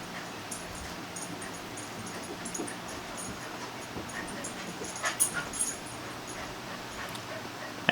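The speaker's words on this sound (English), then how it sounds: "Hey old dog, you have trouble getting upstairs," An old dog whimpers softly indoors against a steady background hum, giving a few faint whines and pants, with slightly louder whimpers clustered toward the end.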